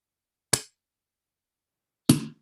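Two sharp pops from spring wine bottles being uncorked at a celebration, each a brief, crisp burst followed by a quick hiss, about a second and a half apart, with no voices.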